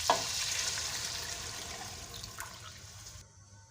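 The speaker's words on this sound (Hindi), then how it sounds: "अब हम इसमें वही यखनी यूज़ कर लेंगे" Yakhni stock poured into mutton that has been browned in masala, giving a loud initial hiss that settles into steady bubbling sizzle, fading slightly before cutting off.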